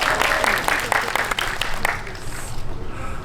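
An audience at a film talk event breaks into applause, a burst of many hands clapping that fades toward the end, with a voice speaking faintly underneath.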